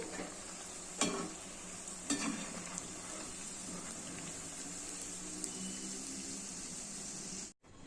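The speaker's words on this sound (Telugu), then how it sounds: "మనం నూనె చల్లుకుంటూ కాల్చాలండి" Eggplant bonda fritters made with toor dal flour fry in a pan while oil is sprinkled over them, giving a continuous close sizzle with a few sharper clinks and stirring sounds.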